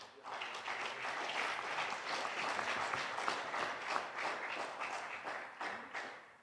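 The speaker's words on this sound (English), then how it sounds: "a round of applause for them also" Audience at an international incubator pitch event giving sustained applause, dense steady clapping that rises quickly, holds for several seconds and tapers at the end.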